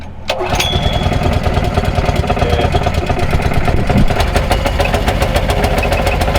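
A small hookah dive compressor engine chugs steadily at low revs after starting up, a loud, close, rhythmic putter that runs without a break.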